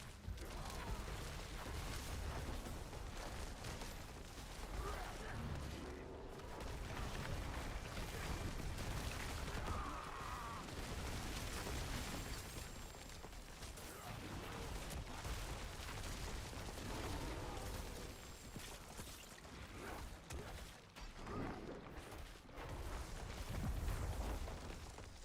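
Explosions from Earth Pulverize attacks by a Werebear Druid in an action role-playing game, a dense continuous barrage of booms and crumbling blasts layered thickly for the whole stretch without pause.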